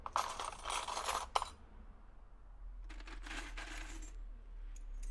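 Hager keys poured into a cup, heard as two dense metallic jangling bursts of clinking keys, a longer one at the start and another later, close and fairly loud over a low steady hum.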